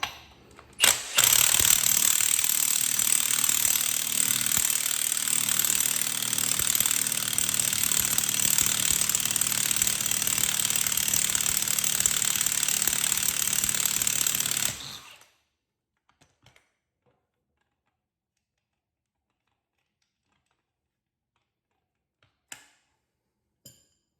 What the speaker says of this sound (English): let's go ahead and just impact it off now